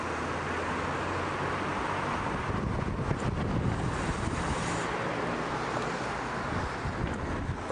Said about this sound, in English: it's as windy as hell today